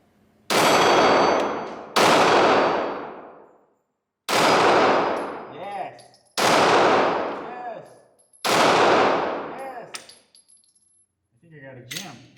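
A Ruger SR9 9mm pistol fires five loud, sharp shots spaced roughly two seconds apart, each ringing out with a long echoing tail, followed by metallic clinks and small clatters.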